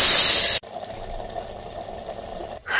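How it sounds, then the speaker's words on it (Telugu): Water poured into curry cooking in a brass pot: a loud bright splash for about half a second, which cuts off abruptly and leaves a quieter bubbling simmer. "ఇప్పుడు కొద్దిగా వాటర్ అయితే యాడ్ చేసుకోవాలి."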